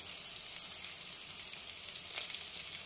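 Curry leaves sizzle and crackle in hot oil in a pan for a Kerala-style prawn roast, a steady close frying hiss with no one speaking.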